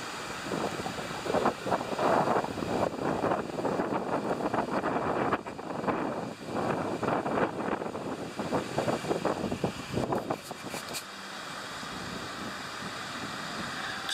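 Strong gusty wind on a beach in Mexico buffets the microphone in loud, uneven bursts, with surf-like roaring behind, easing into a quieter steady rush near the end.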